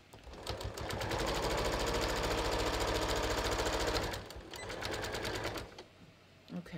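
A sewing machine stitches fabric for a welt pocket in a loud, fast, even mechanical whir, running for about four seconds, pausing briefly, then running again before stopping.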